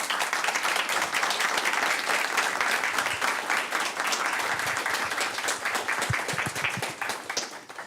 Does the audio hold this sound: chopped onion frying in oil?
no